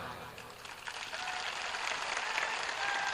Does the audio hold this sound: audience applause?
yes